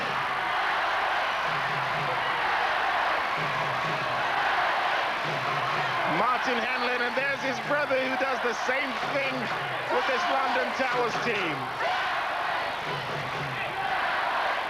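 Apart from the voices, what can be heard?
basketball crowd cheering led by a fan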